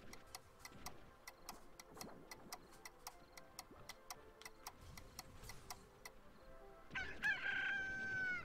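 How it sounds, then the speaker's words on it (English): Rooster crowing sound effect plays in a farming video game at morning, one loud drawn-out crow near the end following a steady clock-like ticking. "Yep, there goes the roosters."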